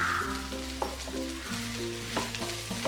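Minced beef mixture for cutlets frying in a pan, a close, steady sizzle with a few spoon scrapes and taps as it is stirred, alongside a faint steady background hum.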